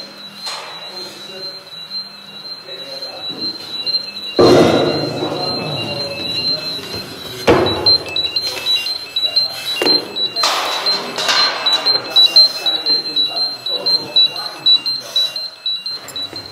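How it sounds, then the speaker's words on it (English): Gas alarm sounding inside a confined space during a rescue scenario, a steady high-pitched electronic tone running continuously throughout, with loud bursts of clattering and movement and people talking over it. "Hopefully, everybody in the space will be aware now there's a gas alarm going off."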